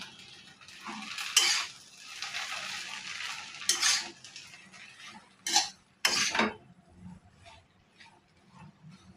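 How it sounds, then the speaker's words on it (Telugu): Egg noodles being stirred in a frying pan, with scattered scraping clatters of a utensil against the pan over a faint sizzle, and a few louder knocks separated by quieter stretches. "తర్వాత నూడిల్స్ వేసేసుకోవాలి ఇది ఒకసారి కలుపుకోవాలి"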